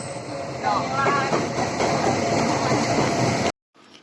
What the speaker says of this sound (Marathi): ट्रेन आलेली आहे